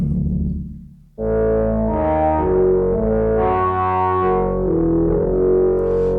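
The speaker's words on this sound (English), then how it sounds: "It's an organ." After a brief fading tail of another sound, a synthesized organ patch enters abruptly and holds sustained chords with distortion and effects, loud and steady to the end.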